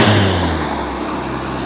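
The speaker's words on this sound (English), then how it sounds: "I'm being chased down by Dad in the 1954 Renault 4CV." A 1954 Renault 4CV drives past close by, its small engine note loud at first and then fading steadily as the car pulls away, with no talking.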